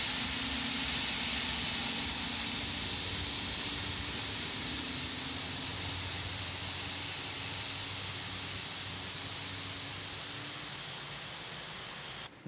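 A British Airways jet's engine number 2 spooling up on the ramp, a steady loud roar with a high whine and hiss that holds evenly for about twelve seconds before easing slightly at the end.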